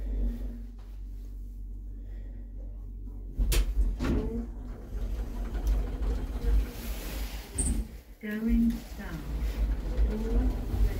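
A 1999 Nationwide passenger lift's doors slide shut with a clunk, followed by the car's hum, mechanical thuds and a short chime, while a person talks quietly.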